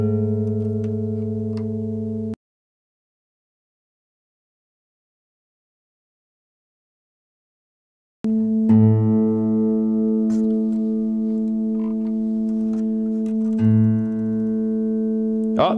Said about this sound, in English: I'm going to adjust the tension in the guitar string until the two frequencies match and I don't hear that wobbling anymore